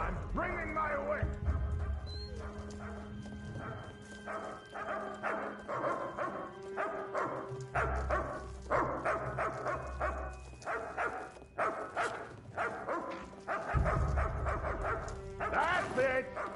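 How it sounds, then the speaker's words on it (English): Dog barking inside the video game The Elder Scrolls Online (ESO), repeated yips and barks scattered through the scene alongside game voices and background music. "There better be a reason for all that barking, or you're getting the whip!"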